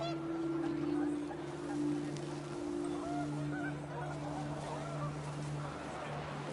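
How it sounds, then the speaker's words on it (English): Panicked geese honk in What Remains of Edith Finch, a steady layered honking chorus with a droning tonal bed, continuous and moderately loud for several seconds, with no one speaking. "panicked geese appeared and quickly went"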